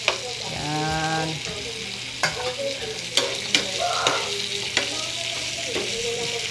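Century tuna fries crispy in a pan with a steady, close sizzle and crackle, while a spatula stirs and scrapes with clinks and taps against the pan throughout.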